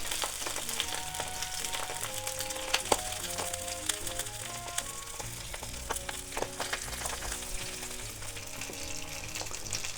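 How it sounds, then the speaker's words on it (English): Teriyaki salmon, skin side down, fries in a pan with a soft, steady crackling sizzle and scattered pops close by, quiet and continuous with no talk. "I'm going to now cook the skin part."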